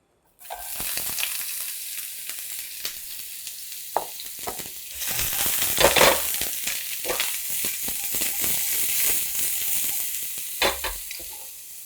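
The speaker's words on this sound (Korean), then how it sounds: "양파부터 먼저 볶아주도록 하겠습니다" Steady sizzling and crackling of onions frying in a hot pan, continuous and close, with occasional stirring scrapes.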